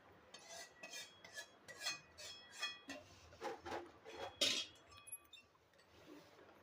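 Hot turmeric tempering is poured over poha chivda in a quiet kitchen: a run of light clinks, scrapes and stirring taps, fairly evenly spaced, with no talk.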